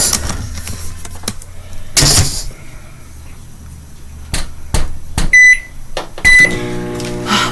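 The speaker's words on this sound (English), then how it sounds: "Put it in the microwave for a moment," A microwave oven heating a slice of sharp cheddar in a home kitchen: a steady low hum with clunks and clicks, a few electronic beeps near the end, then a soft whir as it winds down.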